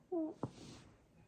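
A cat gives a short, faint meow up close in a quiet indoor room, followed by a soft thump and low background noise.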